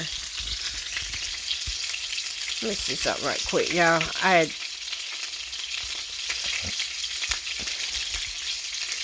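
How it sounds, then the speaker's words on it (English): Steady loud sizzling of burgers frying in a pan, with someone briefly speaking over it partway through. "These little burgers are frying like that."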